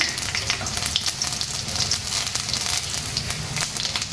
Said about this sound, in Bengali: দুটো শুকনো লঙ্কা, একটা তেজপাতা দিলাম, একটু পাঁচফোড়ন দিলাম